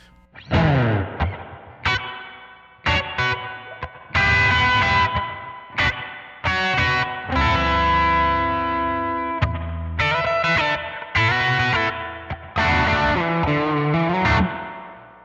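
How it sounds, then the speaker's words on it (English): Distorted electric guitar phrases drenched in heavy reverb and echo, notes ringing out and trailing after each burst, played loud and alone. "A lot of reverb, right?"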